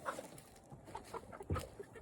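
Backyard chickens cluck softly as they are shut into their coop at dusk, scattered short clucks with one louder burst partway through, quiet and close.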